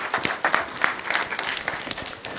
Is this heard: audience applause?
yes